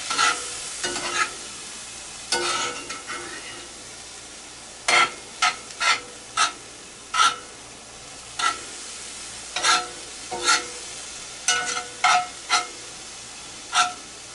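Seasoned chicken taco meat stirred in a hot pan, steady sizzling broken by a series of sharp scraping stirs of the spoon against the pan, close and fairly loud with no talking.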